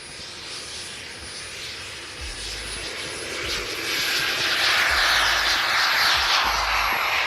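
A turbine-powered model jet aircraft takes off at an outdoor wing show, its whine and rushing roar building steadily from moderate to loud and close over several seconds, with a continuous high-pitched turbine tone.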